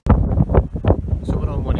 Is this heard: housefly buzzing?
no